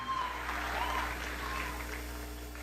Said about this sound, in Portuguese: pedir uma salva de palmas a todos os professores e professoras aqui presentes